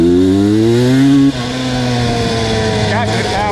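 A Honda 250R engine lugs under load with a loud, deep, throbbing low rumble, then drops abruptly to a lower, rougher tone and keeps running.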